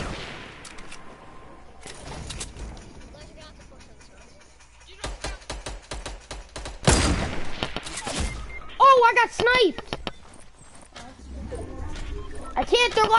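Rapid bursts of gunfire and grenade launcher blasts crack through a PS4 video game firefight, with sharp shots clustered in volleys and a loud blast midway, while players talk throughout.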